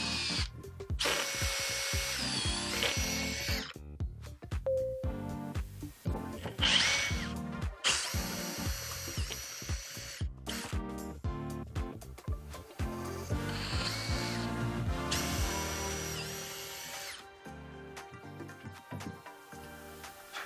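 A power drill fitted with a tapered bit bores a hole in a wooden cabinet, running in repeated loud bursts of whirring and grinding broken by short pauses and clicks of the tool.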